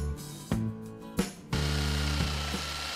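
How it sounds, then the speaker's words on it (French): A jigsaw starts and stops in short bursts, then runs steadily with a loud buzzing, rattling cut through a wood panel with the blade tilted, close by. "je découpe en inclinant la lame de la scie sauteuse"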